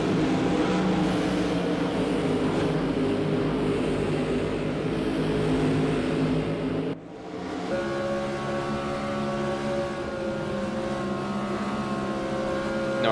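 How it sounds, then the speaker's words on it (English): Ford Mustang IMSA GTO race cars in a racing video game at the Salzburgring, engines roaring steadily and loud, with one car's tone dropping sharply as it shifts or passes midway, no voices. "Oh, these engines are so good."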